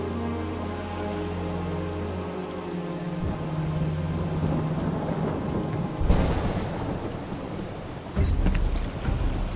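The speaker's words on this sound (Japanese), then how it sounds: "すごい雨だな。" Heavy rain and rolling thunder in the video game Final Fantasy VII Rebirth, a steady downpour hiss with deep booming thunder swelling midway and again near the end, loud and close with no talking.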